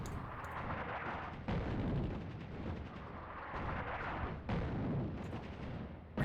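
Artillery fire in the video game Attack at Dawn: North Africa, a British defence at Tobruk. Repeated heavy booms land about every second and a half over a sustained rumbling din.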